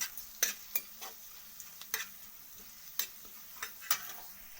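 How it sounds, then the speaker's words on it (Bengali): Chopped ginger is stir-fried in a pan of hot oil, a soft steady sizzle under irregular scrapes and taps of a spatula against the pan, close and quiet, with no one talking. "তো আদাটাকে একটু খড়িয়ে ভেজে নেব।"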